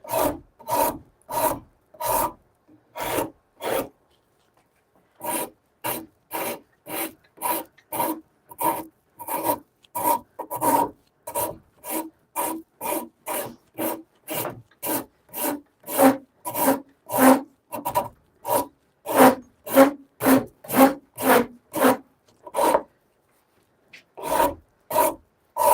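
A wooden shillelagh is worked by hand with a rasp or sanding grit, producing loud, regular back-and-forth scraping strokes in a steady rhythm, with brief pauses between bursts and no talking.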